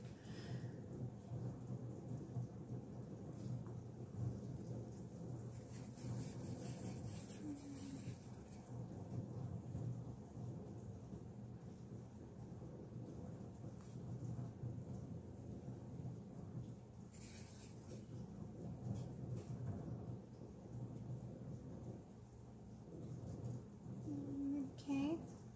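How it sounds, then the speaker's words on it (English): Rain falls steadily outside, a continuous soft hiss heard from indoors with a low rumble underneath, running evenly for the whole stretch. "Just realized it's raining."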